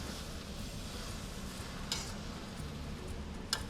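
Hong Kong–style noodles with bean sprouts, spring onion and chili are stir-fried in a pan with the heat off, giving a soft, steady stirring and faint sizzle with two brief scraping clatters near the end.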